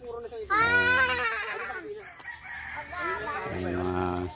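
A chicken crows loudly near the start on a farm in Unisan, Quezon, followed by mixed farmyard bird calls, with a second crow-like call toward the end and people talking throughout.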